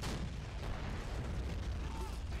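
A tank's main gun fires during a Japanese amphibious assault in the Red Rising mod, buried in a loud, continuous roar of battle noise with no single sharp blast standing out.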